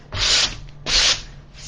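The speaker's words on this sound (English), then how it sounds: "so I'm just going to give it a really quick sanding" A craft piece gets a quick hand sanding: two short, raspy back-and-forth strokes, close and fairly loud, separated by a brief pause, with no talking.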